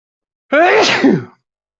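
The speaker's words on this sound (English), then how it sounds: "I've got to sneeze." A single loud, close sneeze with a brief breathy wind-up, then silence.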